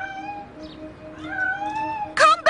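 A cartoon cat meows in a short run of drawn-out, rising cries, then gives two sharp, loud yowls at the end.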